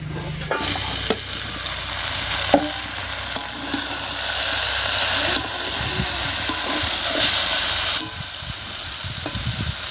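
Winter vegetables fry loudly in an uncovered pan, a dense close sizzle and steamy hiss with scattered clicks of stirring, steady throughout before easing slightly near the end.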